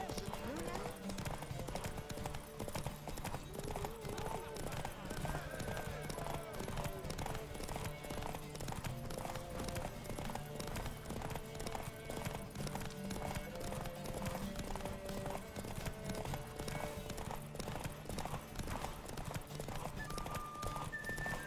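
Roach the horse galloping in The Witcher 3, rapid rhythmic hoofbeats pounding continuously alongside another horse, with an occasional whinny, people talking and background music.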